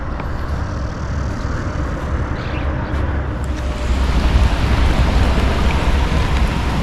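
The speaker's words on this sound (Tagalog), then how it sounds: "tapos lakas na rin ng ulan" Heavy rain pours down steadily near a fishing spot with nets laid out, a dense, loud roar that thickens and grows stronger partway through, with no voices.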